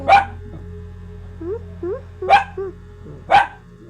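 A dog gives three sharp barks spaced about a second apart, with softer whimpering yelps in between, close and clear in a quiet room.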